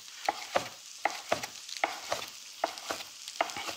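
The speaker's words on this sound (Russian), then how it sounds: "Смотри, как жарится у нас" Salmon pieces fry in a pan with repeated scraping and sizzling strokes, a stirring rhythm of sharp bursts roughly every half second, close by with no talking.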